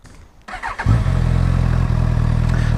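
A 2020 Suzuki Katana motorcycle engine cranks and fires after a brief quiet mechanical lead-in, then settles into a loud, steady, close idle with a deep rumbling pulse.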